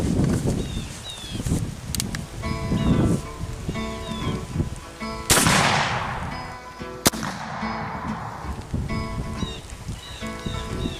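A Cabela's .58 caliber Hawken muzzleloader rifle fires outdoors, with one loud, close blast partway through and a second sharp crack a moment later, set against faint rustling ambience.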